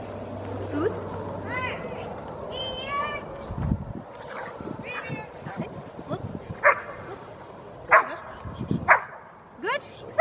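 A Rottweiler yips, whimpers and gives short barks at close range during obedience heeling practice, the sharp bursts scattered across the clip over background voices and handler commands.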